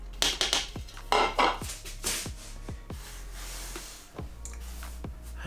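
A wooden chopping board is knocked and set down in a home kitchen while fresh spaghetti dough is made, giving a string of sharp hollow wooden taps and clunks close by, spaced irregularly over a quiet background.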